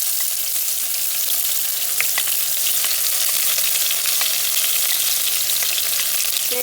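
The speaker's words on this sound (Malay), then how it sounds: "Kita nak tumiskan bawang putih dulu" Garlic frying in hot oil for chicken mandy rice, a steady close, loud sizzle and crackle throughout with occasional sharp pops.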